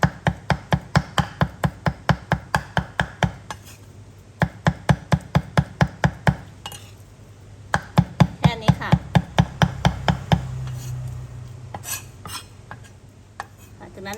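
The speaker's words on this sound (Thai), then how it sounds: "สับไม่ต้องละเอียดมากค่ะ" A knife chops meat rapidly and rhythmically on a cutting board, steady regular strikes close up, pausing briefly before continuing with a softer, scraping finish.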